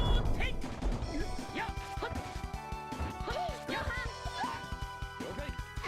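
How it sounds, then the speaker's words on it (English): A cartoonish thwack as a hammer drops onto the party's heads during a battle in the PS1 role-playing game Tales of Phantasia, one sharp hit amid busy game music and effects. "That's so cute when the hammer gets dropped on our heads"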